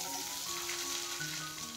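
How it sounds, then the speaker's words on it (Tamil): Sliced onions fry with fennel seeds in hot oil, a steady, close sizzle with faint crackle holding level and alone throughout. "சோம்பு நல்லா வெடிச்சு வந்ததும் இதுல ஒரு 150 கிராம் வெங்காயத்தை நல்லா நறுக்கி சேர்த்துக்கலாம்"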